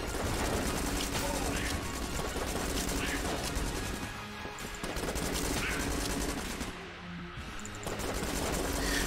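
Rapid gunfire from the Bullet gun in the video game Enter the Gungeon, a dense continuous stream of shots mixed with game music and effects, pausing briefly twice before resuming.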